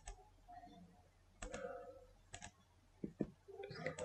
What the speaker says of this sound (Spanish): Damos clic.